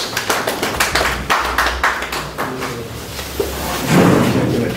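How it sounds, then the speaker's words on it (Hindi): Scattered clapping welcoming a speaker at a press conference in a party's West district office, a few close, uneven claps building into a brief louder burst toward the end. "एक बार जोरदार तालियों द्वारा सभी उनका स्वागत करें।"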